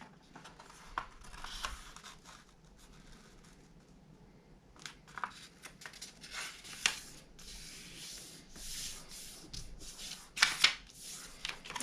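Origami paper is folded and flipped over for a jumping frog model, giving quiet crinkles, soft rubs and occasional sharp creasing snaps, close and faint with long gaps.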